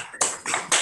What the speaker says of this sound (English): give Karan just a big round of applause before we stop here.